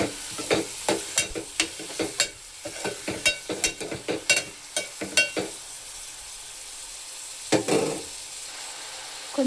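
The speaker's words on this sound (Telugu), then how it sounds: "నెక్స్ట్ ఆనియన్, అందులో జీలకర్ర మెంతులు కూడా వేసానండి. ఒకసారి కలిపేసుకోండి." Onion with cumin and fenugreek seeds frying in oil in a pan while being stirred: a soft steady sizzle under a rapid series of close spoon scrapes and taps, which pause midway and then return with a few more strokes.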